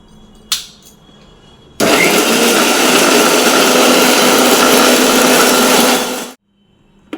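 A mixer grinder whirs loudly and steadily for about four and a half seconds, grinding ginger-garlic paste with a little water under a closed lid, after a sharp knock and before the motor cuts off to quiet.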